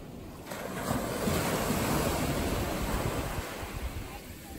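Ocean surf washes onto the beach with a continuous loud roar that swells and ebbs, mixed with wind buffeting the microphone and no clear speech.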